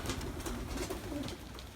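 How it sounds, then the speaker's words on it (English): Soft, low pigeon cooing from several birds coming down at a loft, repeated throaty murmurs over a constant background hum, fairly faint and close. "The birds are starting to come down"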